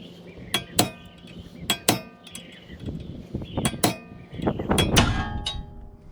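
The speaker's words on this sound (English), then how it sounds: "I'm going to be staking the nut with my punch" Sharp metallic clangs from a punch being hammered to stake a nut during a rotor assembly, struck in irregular clusters of quick, close, ringing hits with brief pauses between.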